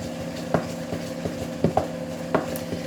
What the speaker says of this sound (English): I'm just going to tap that on the side of the bowl.